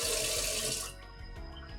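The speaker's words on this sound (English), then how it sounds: "you go to the tap here, cold water only, and you want to slow down the flow rate" Cold water running from a kitchen tap at a slowed flow rate, a steady close-up stream that softens and thins partway through, with no talking.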